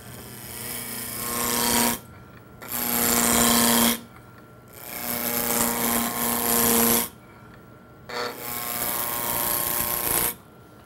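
A wood spindle spins on a lathe under a roughing gouge, worked from the pommel toward the tailstock. Loud, rough cutting comes in four bursts separated by short pauses in which the lathe hums on alone.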